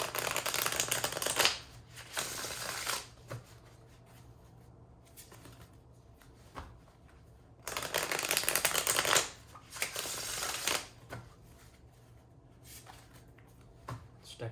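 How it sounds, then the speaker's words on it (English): Cards are shuffled in several brisk riffling bursts, with quieter handling and soft taps between them, close and fairly quiet. "I'm going to shuffle."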